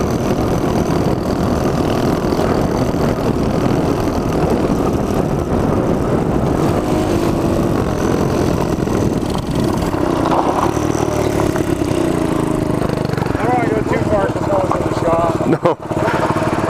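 A mini bike engine runs loud and steady while being ridden, its pitch rising and falling through gear changes, with brief talk over it.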